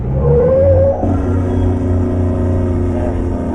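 Car engine revving in a radio drama: a loud, close whir that climbs in pitch, then shifts to a steady, droning engine note that holds to the end.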